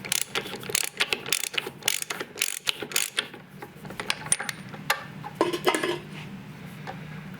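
Metallic clinks and ratcheting clicks while a split ring is worked out of a Dana 30 axle housing, irregular sharp metal taps and scrapes close by, with no talking.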